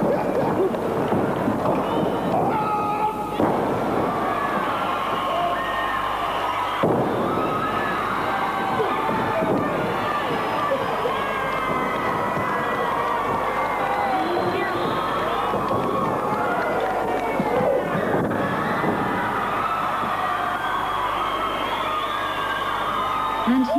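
A crowd at a 1990s South African All Stars Wrestling event in Petersburg keeps up a continuous roar of cheering, whoops and shouts for over twenty seconds, with a narrator talking over it.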